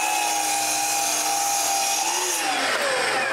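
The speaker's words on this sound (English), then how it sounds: "The first thing I do is cut two square pieces of plywood." A power saw cuts through square pieces of plywood, a loud steady whine running throughout with the pitch sliding downward near the end as the blade bites the wood; no voices.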